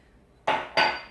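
A knife roughly chops walnuts on a board for a walnut pie, with two crisp, clattering chopping strokes close up in a quiet kitchen.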